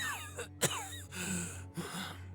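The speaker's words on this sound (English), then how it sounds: "Linton was coughing harshly between every couple of words." A game character in Limbus Company coughs harshly, with a few sharp rough bursts over quiet background music and no talk.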